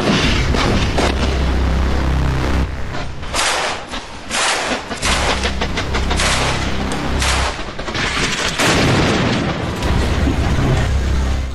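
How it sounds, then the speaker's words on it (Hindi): Heavy bomb and artillery explosions over Gaza, with repeated booming blasts and dense rumbling bursts of fire sounding loud and continuous, with no talk. "गाज़ा के आसमान में बम गोला बारूद का महाजोर है।"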